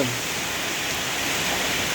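Steady rain pours down over a durian orchard in Buriram, Thailand, a dense even hiss that fills the whole clip without a break.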